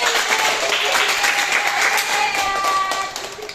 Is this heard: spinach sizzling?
no